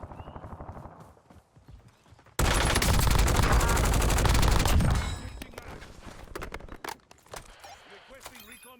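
A Grau rifle fires a long, loud, steady automatic burst in the Warzone video game, followed by quieter scattered shots and game noise, with someone talking in Polish.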